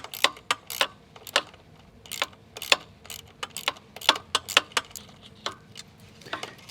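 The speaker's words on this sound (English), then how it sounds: "I put a Phillips head on a socket wrench to make things a little easier" Socket wrench fitted with a Phillips head turning terminal screws, a rapid series of sharp metallic ratchet clicks in irregular bursts, close and crisp over quiet background.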